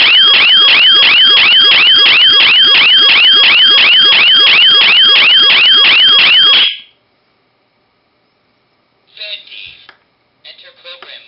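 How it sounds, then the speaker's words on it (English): An electronic alarm siren on a Betty v3.1 talking paintball prop blares loud, rapid warbling pulses for about seven seconds, then cuts off into silence before brief faint electronic sounds follow. "Now the siren."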